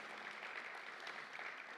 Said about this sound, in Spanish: Con fuertes aplausos.